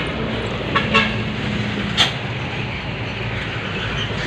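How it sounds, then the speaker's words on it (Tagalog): Steady, loud broadband roar of traffic from a nearby highway, heard from a garden, with a few brief horn-like toots near the start and around the two-second mark. "Pasensya na kayo, malapit kami sa highway, medyo maingay, di ba?"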